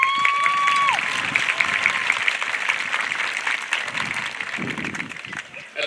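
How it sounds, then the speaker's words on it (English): A high school commencement crowd claps steadily in a broad, sustained round of applause, with a whistle near the start and scattered cheers, tapering off toward the end. "Please give them a round of applause."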